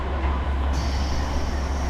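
A train pulling into a platform at a station near Kure, Hiroshima, Japan, with a steady loud low rumble of wheels on rails and a faint high tone joining partway through.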